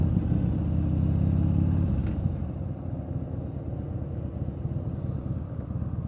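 A motorcycle out on a road ride, its engine giving a steady close-up rumble that is louder for the first couple of seconds and then settles into a lower, even drone.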